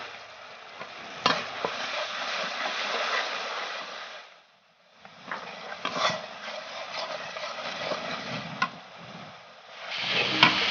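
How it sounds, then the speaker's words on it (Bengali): Spice paste with turmeric, chili and coriander powder fries and is stirred in a pan, producing a close, continuous sizzle with sharp spoon scrapes and taps, briefly dipping quiet midway before the hiss returns. "এখন আমি মশলাটাকে ভালো করে কষিয়ে নিচ্ছি"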